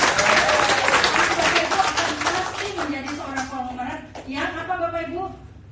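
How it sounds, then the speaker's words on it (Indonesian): Audience applause and clapping at a talk fills the opening seconds, then fades as a speaker's voice takes over and carries through the rest. "Jadi tepuk tangan buat Bapak Ibu semua."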